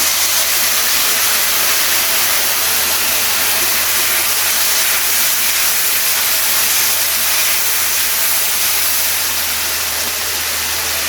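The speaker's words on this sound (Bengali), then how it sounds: "এবারে দিয়ে দেবো কুমড়োর মধ্যে তেঁতুল গোলা জল।" A loud, steady steam hiss rises as tamarind water hits fried pumpkin in a hot pan, a dense sizzling roar that holds evenly for about eleven seconds with no talk.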